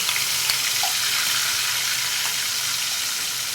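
Onion paste hits hot frying oil in a pan, giving a steady, even hiss of sizzling that stays fairly loud and constant throughout, with no talking.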